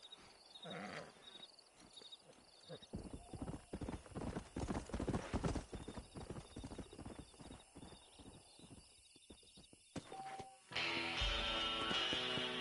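Horse hooves clip-clop in the Red Dead Redemption video game, a steady trotting rhythm on a dirt path amid crickets and ambient wildlife, ending as louder game music swells.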